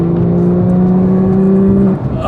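A Porsche 991.2 911 GT3 engine revs close by, holding a steady high, loud note for about two seconds before the pitch climbs as the revs rise.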